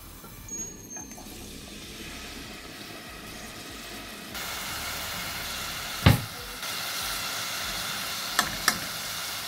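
Steady, quiet sizzling of garlic and onion paste browning in a pan, with occasional stirring knocks and scrapes.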